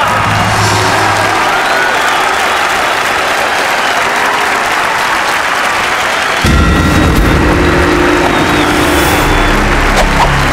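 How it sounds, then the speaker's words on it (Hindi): Loud, dense applause from an audience at a wrestling competition, a continuous roar of clapping throughout with no talk, growing fuller and heavier partway through. "तालियां।"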